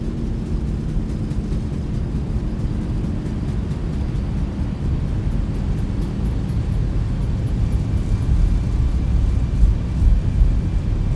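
Airliner thrust reversers roaring after touchdown in the X-Plane 11 flight simulator, a steady dense low rumble held loud and continuous throughout, swelling slightly near the end.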